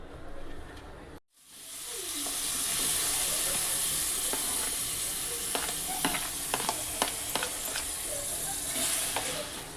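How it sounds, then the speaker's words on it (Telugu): Tomatoes frying in cow ghee in a kadai. After a brief silent gap, a dense hissing sizzle starts and holds steady, with scattered pops and spatula scrapes, no talking. "టమాటా వేపుకుందాము టమాకి మరొక స్పూన్ ఆయిల్ వేస్తున్నా నేను ఆయిల్ అంటున్నాను ఆవు నెయ్యి వేస్తున్నాను"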